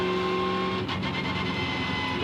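Supercars V8 race car on-board at the 2013 Adelaide 500 street circuit, cruising steadily in 4th gear under a safety car: a continuous loud engine drone with a slight shift in tone partway through, no talk.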